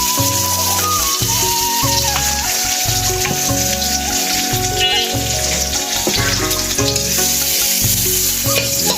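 Goat fat frying loudly in oil, a dense sustained sizzle with repeated rhythmic stirring scrapes and clanks against the pan running all the way through.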